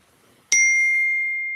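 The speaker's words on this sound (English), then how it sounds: "Somebody just texted me." A phone chimes with a text message alert: one bright, sustained ding that rings out and slowly fades over a quiet room.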